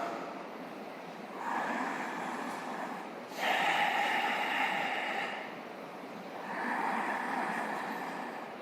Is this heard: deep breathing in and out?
yes